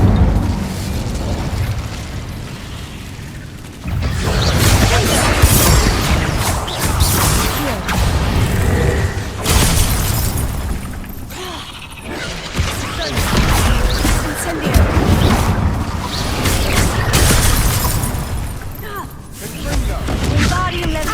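Incendio fire spell blasts in the Hogwarts Legacy video game on PS5: loud, repeated booming bursts and crackling impacts over about twenty seconds, with game effects and voices layered throughout.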